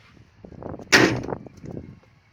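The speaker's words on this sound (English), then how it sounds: "door closes okay." A door on a project vehicle being rebuilt, its chassis complete, swings shut with a single sharp close near the microphone, leaving a brief rattling decay in an otherwise quiet space.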